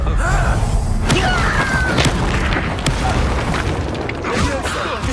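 A Confringo spell goes off in Hogwarts Legacy with loud booming blasts and crackling bursts, several sharp hits over a dense rumbling game soundscape, close and heavy throughout.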